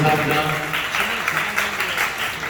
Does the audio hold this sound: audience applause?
yes